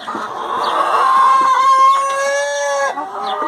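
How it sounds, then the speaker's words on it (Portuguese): A flock of farm chickens clucks and calls loudly and up close, with drawn-out crowing-like cries and overlapping clucks running throughout. "Olha o cantado das galinhas."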